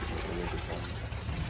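Water running steadily through old Inca-era stone channels in Ollantaytambo, Peru, a continuous close rush and trickle with no break.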